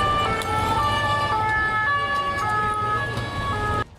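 An ambulance siren wails loudly and close at an outdoor scene after a violent clash with injured people, its steady rising and falling tones sounding over road traffic noise before cutting off near the end.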